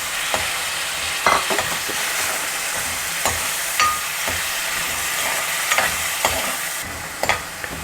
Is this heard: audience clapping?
no